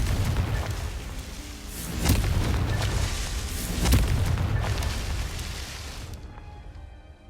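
A Confringo blasting spell explodes in Hogwarts Legacy with loud, rumbling booms, two heavier blasts swelling out of a continuous roar before it cuts off abruptly.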